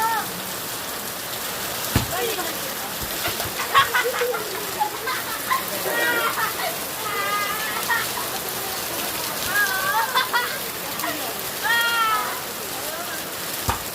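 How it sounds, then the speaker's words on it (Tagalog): Steady heavy rain pours down in the Philippines with a dense hiss, broken by splashes and voices calling out nearby. "Lakas ng ulan, grabe."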